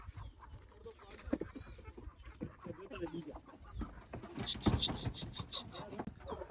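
Chickens and a rooster clucking on a small farm where goats and pigeons are also kept, repeated soft clucks with a louder burst of squawking partway through, under quiet background talk.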